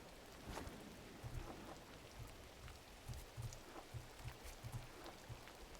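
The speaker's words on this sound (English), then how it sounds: "And now it's raining." Soft, steady rainfall in the video game GRIS patters on a surface at low volume, a gentle continuous hiss with faint low tones underneath.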